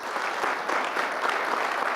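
Steady applause from an audience at a community meeting in a middle school, a dense patter of clapping hands filling the whole moment.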